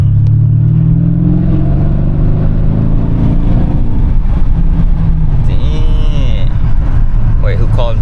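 A Mercedes-Benz W222 S550 engine revs up and settles into a loud, close, steady drone, with a brief voice near the end.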